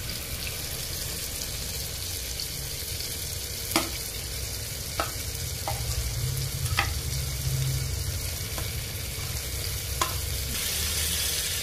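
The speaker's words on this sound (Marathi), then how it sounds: "आता आपण हे सगळ्या भाज्या टाकून घेऊया।" Mixed vegetables for soybean pulao sizzle steadily in a hot pan, a constant loud frying hiss punctuated by occasional sharp clicks of a spoon stirring against the vessel, with no talking.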